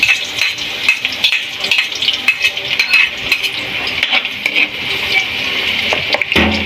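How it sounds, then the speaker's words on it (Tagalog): Garlic and onion sautéing in a pan, a steady close sizzle with scattered clicks and scrapes of stirring running throughout, with no voices. "magigisa na ng bawang at sibuyas"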